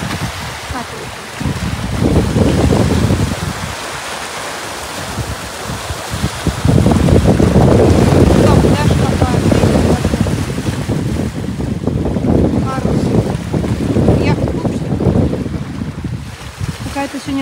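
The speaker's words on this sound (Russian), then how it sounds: "ветер большой" Strong wind by the Gulf of Finland near St. Petersburg buffets the microphone in heavy, uneven gusts, with a broad rumbling roar that swells and eases throughout.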